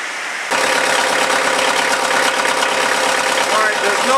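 Kioti DK50SE tractor engine at normal operating temperature, idling with a steady mid-pitched diesel clatter and rhythmic knock that starts abruptly and stays close and even.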